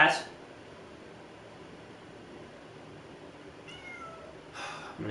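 A house cat meows briefly at the start and again twice near the end, over a soft hum of fan or air-conditioning noise, with a person speaking nearby.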